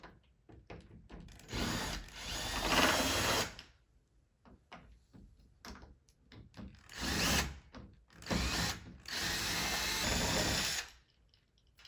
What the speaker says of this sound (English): I'm going to be using a drill.